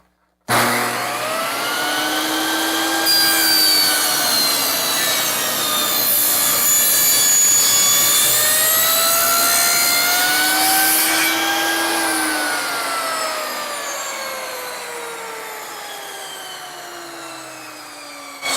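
A power saw cuts a taper into a clamped wooden workpiece with a loud, close whine that rises and dips in pitch as the blade loads and eases, running alone for most of the cut before tapering off near the end.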